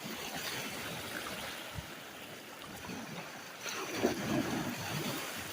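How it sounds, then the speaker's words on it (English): Lake Superior waves washing onto a rocky shore at Vermilion Point, a soft continuous wash with a slightly stronger surge near the end, faint and with no voices. "I'm hoping these waves die down this morning."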